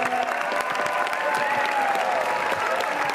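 A crowd at the Cannes Film Festival red carpet applauds, a thick, sustained wash of clapping with scattered cheers, with faint talk and tonal sounds running beneath it.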